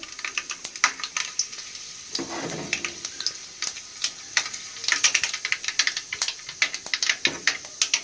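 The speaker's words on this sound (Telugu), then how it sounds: "ఆవాలు మెంతులు రెండు కలపటం ఇలా వేసుకొని ఆయిల్ అయితే వేసుకునేయాలి" Mustard and fenugreek seeds crackling in hot oil in a pan, with a steady close sizzle broken by many sharp popping bursts and a brief louder hiss of frying.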